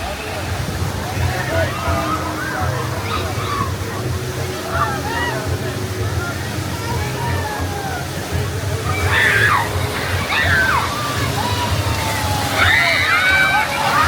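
Water sloshes and splashes continuously on a theme park water ride, with heavier surges of waves crashing over boats; people's voices and excited shouts are mixed in throughout.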